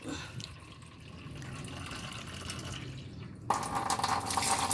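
A little water poured into a pan while tuna cooks, a steady liquid trickle that gets louder and brighter near the end.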